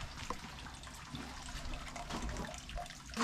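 Cold water splashes and gurgles steadily into the top of a mezcal still during distilling in Oaxaca, a close, continuous running-water sound with no voices.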